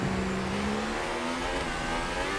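An F1 race car in the F1 2018 video game accelerates out of the pit lane at the German Grand Prix, its engine whining steadily upward in pitch, close and continuous with no talking.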